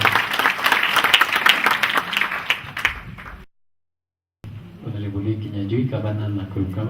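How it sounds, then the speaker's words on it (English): Audience clapping at a county sanitation strategy launch event in Nakuru, loud and dense for about three seconds before cutting out abruptly; after a short gap a speaker's voice continues alone. "Let's clap for Engineer Festus Ngeno."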